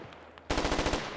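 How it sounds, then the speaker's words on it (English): Rapid burst of gunfire in MARS: Scarlet Storm Rising, a sniper firing from a hilltop, loud repeated sharp cracks in quick rhythmic succession after a brief lull. "It's a sniper."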